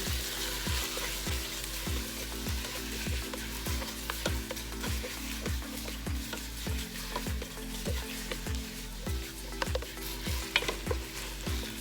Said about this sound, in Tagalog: Ituin muna natin yung chicken natin.